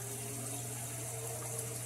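Water flows steadily through a 250-litre double settling tank in a small-space aquaponics system, a constant low rushing and trickling with a pump-like hum, close and even throughout.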